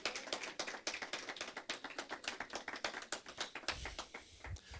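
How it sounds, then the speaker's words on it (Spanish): Rhythmic congregational clapping at a church service, a fast steady beat of many hands close by, with a few louder thumps near the end. "Denle un aplauso fuerte al Rey."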